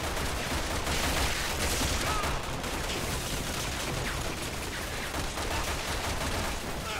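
Sustained video game gunfire from armed zombies in Resident Evil 6, a dense, continuous barrage of rapid shots and bursts filling the whole stretch at steady loudness with no clear talking.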